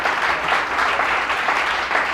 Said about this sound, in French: Vous n'acclamez pas, vous applaudissez